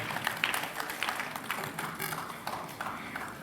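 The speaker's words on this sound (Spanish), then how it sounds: "Para él pido un fuerte aplauso" Audience applause at a lecture on diffuse constitutional review, a quiet, scattered clapping from a modest crowd in a hall, steady for a few seconds with individual claps standing out.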